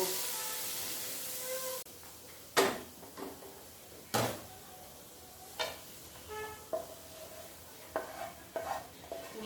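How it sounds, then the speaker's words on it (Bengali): Spatula scraping and tapping a pan while Malabar spinach is stirred with fish head and spices, scattered knocks and light sizzle, fairly quiet and close. "এবার ভালো করে নেড়ে নেব।"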